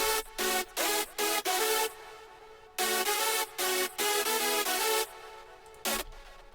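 A hardstyle synth lead layered with chords, built in FL Studio 20, punches out loud, bright gated stabs in a choppy rhythm with short gaps between bursts and no other sound.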